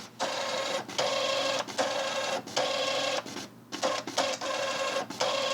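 A 41-year-old HP ThinkJet 2225A inkjet printer running its self-test, buzzing in repeated bursts of printhead passes with brief pauses as the carriage returns, loud and close with no talking.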